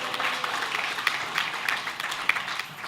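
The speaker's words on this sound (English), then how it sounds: "Give him a round of applause" A seminar audience claps for a volunteer, a moderate, somewhat uneven burst of applause with a few sharper individual claps standing out, and no talking over it.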